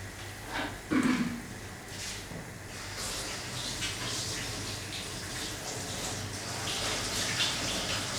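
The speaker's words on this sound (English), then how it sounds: "Need to wash the hands, as chickpea flour is very sticky." Hands sticky with chickpea flour are washed under a running tap, a steady close rush of water with splashing as the hands move through the stream.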